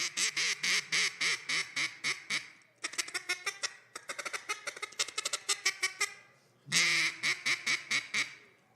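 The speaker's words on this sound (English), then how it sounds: "So if you don't know what this duck call is like, Wayne's going to give it a whirl for you." A duck call is blown at a gala in rapid bursts of loud, nasal quacks, a long rhythmic run of honks followed by faster chattering notes and another quacking burst, close and with no voices.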